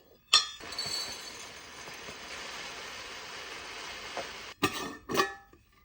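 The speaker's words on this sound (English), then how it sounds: "Something so satisfying about putting everything in jars." Glass jars clink while pantry food is organized into them: a steady rushing noise runs for several seconds, then two sharp, close clinks follow near the end.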